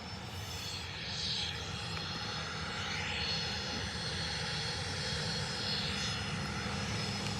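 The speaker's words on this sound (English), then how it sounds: "The Mitsubishi Lufthansa's coming out now, the CRJ. Oh, he's surging it." A Lufthansa Mitsubishi CRJ jet taxis fast at Manchester Airport, its engines surging in a sustained, even roar with whining tones that rise and fall, heard from a moderate distance without voices.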